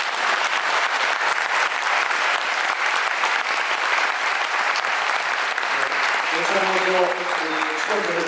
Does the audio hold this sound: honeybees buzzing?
no